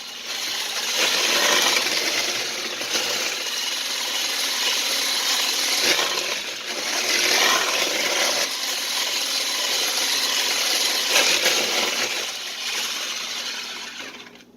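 Peach cobbler batter stirred by hand in a bowl, a continuous scraping and rubbing with rhythmic swells, close and moderately loud, no talking.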